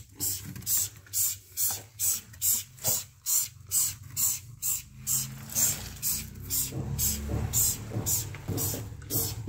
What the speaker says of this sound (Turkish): Ben lateksimi normal bir spreyin içine koydum. Spreyleme yöntemiyle sıkıyorum ki daha iyi bağdaşsın.